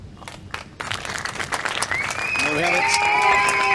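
A crowd at a beach karate venue breaks into clapping and cheering after a men's individual kata, building from scattered claps into sustained applause with whistles, while a commentator speaks over the start.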